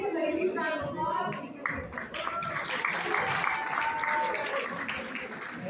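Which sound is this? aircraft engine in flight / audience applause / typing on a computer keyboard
audience applause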